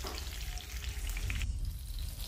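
Stuffed green chillies fry uncovered in an open pan over medium-low flame, giving a close, continuous sizzle and bubbling crackle; no voices.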